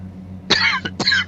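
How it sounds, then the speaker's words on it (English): Two sharp coughs from a man sitting in a truck cab on a highway run, a short burst and then a second one after a brief pause, loud and close over a steady low engine drone. "apologize for the cough suddenly coming up"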